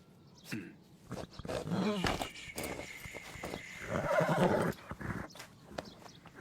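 A horse whinnies loudly, in several drawn-out neighs, between sharp hoof clops and thuds close by, with a brief voice in the mix.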